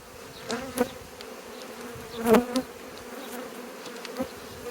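Honey bees buzzing at a beehive during a spring anti-swarming hive check, a steady close hum with a few louder individual bees passing near, no talk.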